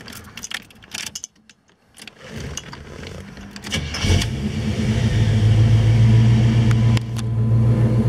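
Keys jangle near at hand before a 1937 Ford Tudor slant-back resto-rod engine cranks and fires. It then settles into a steady, close idle with a deep rumble.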